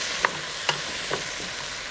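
Cut beets and other vegetables stirred in a pot for borscht, with a few soft scraping knocks of the spoon over a faint steady sizzle, close and quiet.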